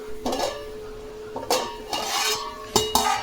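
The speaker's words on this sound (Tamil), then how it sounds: "இது மூடி வச்சிடலாம்." A few distinct metallic clanks and clinks of a lid placed on a pot of simmering village-style fish curry, spaced apart over a quiet background with no talking.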